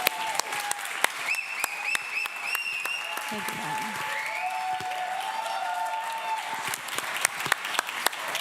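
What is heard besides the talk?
audience applause at a hackathon presentation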